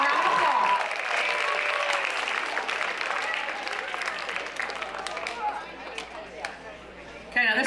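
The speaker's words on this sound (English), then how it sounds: "Let's give them a round of applause." An audience at a junior high academic awards ceremony applauds the cheerleading squad, a loud, dense round of clapping that gradually thins, with crowd chatter and voices mixed in.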